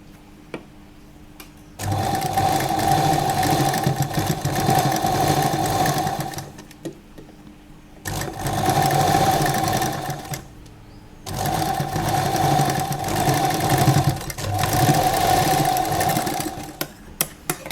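A sewing machine stitches a lehenga in three long, steady runs, each separated by a short pause, loud and close with no talking.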